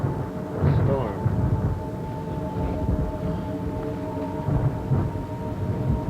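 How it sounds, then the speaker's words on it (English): A thunderstorm rumbles with steady rain, deep rolling thunder swelling and fading under a constant wash of noise and a faint sustained tone. "Storm."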